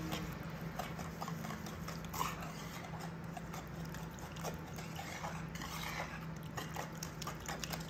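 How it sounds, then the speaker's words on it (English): A whisk works sugar into an egg mixture for apple bread pudding, a soft, fast, irregular clatter of tapping strokes against a bowl, fairly quiet over a low steady background hum, with no talking. "I'm going to add my 2 cups of sugar. And I'm going to give it a good"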